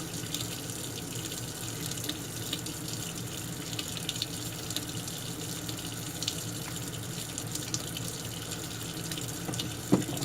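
Running water from a tap rinses parts of a Remington 1858 revolver: a steady, even hiss and splash that continues unbroken for the whole stretch, with no voices.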